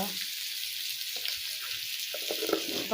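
Turmeric, chilli powder and masala being stirred in a hot pan, with a soft steady sizzle and occasional scraping stir sounds, close and fairly quiet with no talking.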